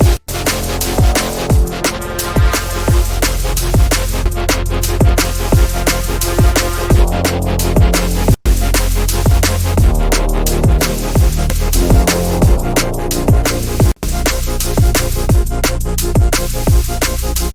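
Liquid drum and bass track, produced in FL Studio and processed with saturation and limiter plugins: dense, loud and steady rolling breakbeat with punchy kicks, heavy bass and bright chords, broken by two brief dropouts.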